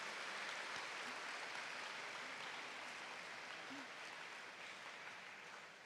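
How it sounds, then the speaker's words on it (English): A large audience claps steadily at a morning prayer assembly marking osteoporosis awareness, a sustained even rush of applause that fades slightly toward the end. "a very, very huge round of applause. Can we please have that once again?"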